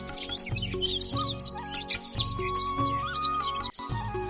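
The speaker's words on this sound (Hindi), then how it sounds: "पेड़ों पर पक्षी चहचहा रहे थे।" Songbirds chirp in trees around a village, bright repeated tweets and trills in quick bursts over soft steady rural background tones, clear and close.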